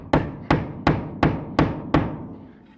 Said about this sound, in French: Et on enfonce bien le clou.